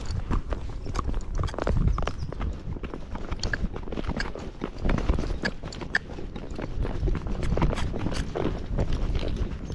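A Rocky Mountain horse walks along a trail, its hooves striking in a steady, close clip-clop rhythm throughout, with brush and footing noise mixed in and no talking.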